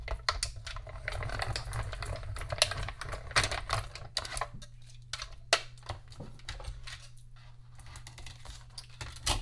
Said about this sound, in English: we'll just run that through the little Stampin' Cut and Emboss machine